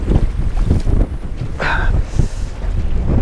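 Strong wind buffets the microphone in a constant heavy rumble during a cold front at a bass fishing spot, with a brief hiss of gusting air partway through.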